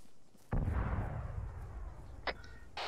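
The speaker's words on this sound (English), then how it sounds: "The sound you're hearing is those fucking artillery cannons firing" Artillery cannons firing in Arma 3: a single deep, loud boom with a long rumbling decay, followed by fainter sharp distant cracks.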